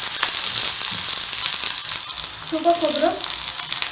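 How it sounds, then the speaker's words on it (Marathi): Onion and dry coconut sautéing in hot oil for a stuffed masala brinjal dish give a steady close sizzle and frying crackle throughout, with brief stirring noises and a short spoken phrase over it. "आलं लसूण हे चांगलं आता आपण परतून घेऊ"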